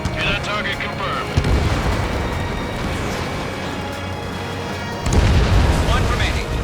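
In the Ace Combat 7 video game, a harbor under heavy attack rumbles with dense, continuous booming explosions. A loud, deep blast hits around midway and a heavier one near the end, over a constant roaring background.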